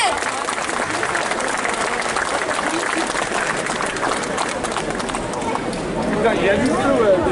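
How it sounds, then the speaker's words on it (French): Audience applause at a cosplay contest in a convention hall, a steady, dense wash of clapping mixed with crowd noise and voices, swelling slightly toward the end. "Est-ce qu'on peut faire un tonnerre d'applaudissements pour nos juges"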